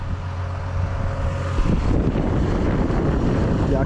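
Wind buffets a microphone outdoors on a farm during ripping work, starting as a steady roar over a low engine hum and turning into louder, heavier gusting rumble for the rest of the stretch.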